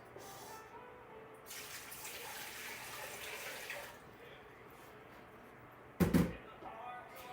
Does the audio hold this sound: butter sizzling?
no